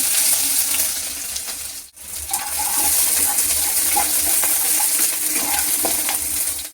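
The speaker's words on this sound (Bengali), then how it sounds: "এবার সর্ষের তেল দিয়ে দিলাম। এবার পেঁয়াজ কুচানো দিলাম।" Chopped onion frying in mustard oil, a loud close sizzle with steady hissing and popping that briefly dips to near silence before resuming just as strong, with no voices.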